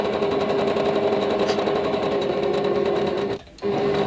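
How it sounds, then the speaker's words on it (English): Sewing machine running a straight stitch along a marked line on a tulip quilt block, with a quarter-inch presser foot: a close, steady mechanical whir with even rapid stitching, briefly pausing near the end before resuming. "I'm sewing right on the line."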